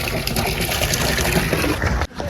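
Water gushing out of a borewell pipe in a loud, steady, broadband rush that stops abruptly near the end.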